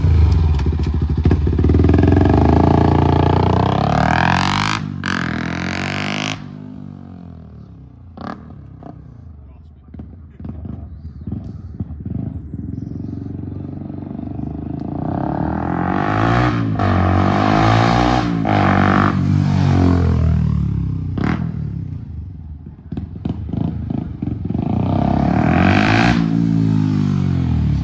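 A Yamaha WR125R motorcycle engine roars and climbs in pitch, shifting up through several gears with dips between, loud and close, with scattered clunks and some speech.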